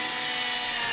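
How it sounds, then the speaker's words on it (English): A hand or power drill bores a small hole for a rivet, a steady, close, continuous grinding whir lasting about a second with no talk. "and then drill our hole"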